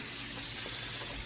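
Rinse water drains through the screen of a Nostalgia 3-quart iced tea and coffee brewer, a soft continuous hiss and trickle heard close up without any voices.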